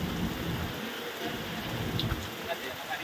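Heavy downpour hammering down in a steady, dense, close-up roar that never lets up, with faint low rumbles underneath.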